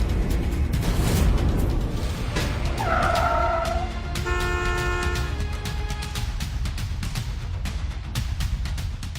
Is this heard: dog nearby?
no